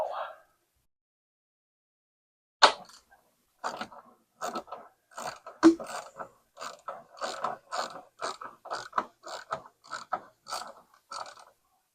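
A ratchet wrench tightens the top bolts of a shock absorber, giving close, crisp bursts of clicking in an irregular rhythm with short pauses between runs.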